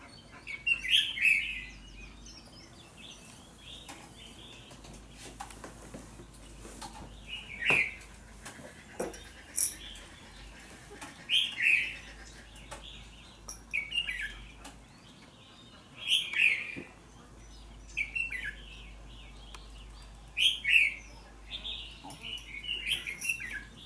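A caged red-whiskered bulbul sings in short, bright bursts spaced every few seconds, recorded from indoors at some distance over a low background hum.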